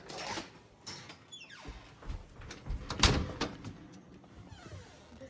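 An original back door opening out to the backyard of a Big Bear home, with a scraping swing and a brief clunk midway, fairly close, followed by quieter handling noise and no talk.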